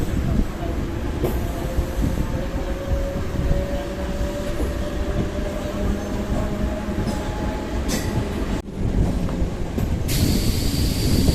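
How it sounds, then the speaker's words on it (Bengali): A MEMU express train rolls slowly into Andal station after switching tracks, a loud close continuous rumble of wheels and carriages with faint squeals and clicks, heard from on board. "মেমো এক্সপ্রেস এখন অন্ডারে ঢুকছে লাইন চেঞ্জ করে স্লোভাবে ঢুকছে"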